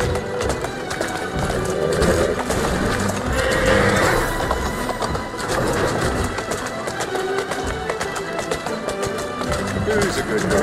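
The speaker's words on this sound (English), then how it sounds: "Who's a good horse?" Horse ridden in the Assassin's Creed Syndicate video game, with repeated whinnies and steady clip-clopping hooves throughout, under a man's spoken encouragement.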